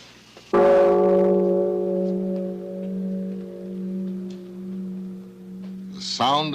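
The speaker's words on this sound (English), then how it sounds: "The sound of the bell, the voice of Buddha." A large Japanese temple bell cast by Mr. Katori is struck once, giving a loud deep boom that settles into a long, slowly wavering hum, with a faint sound entering at the end.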